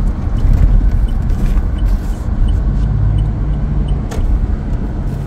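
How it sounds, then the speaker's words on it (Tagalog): Engine noise from a 2022 Toyota Fortuner Q in sport mode, heard from inside the cabin: a steady, loud low rumble with road roar throughout and no voices. "maririnig mo yung engine noise kahit nandito ka sa sa loob"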